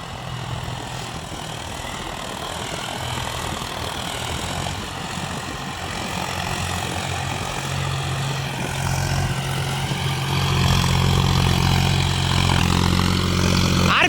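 A John Deere 5050D 4WD tractor works a potato field, its diesel engine droning steadily and loudly for the whole stretch, with the low rumble swelling slightly toward the end and no voices.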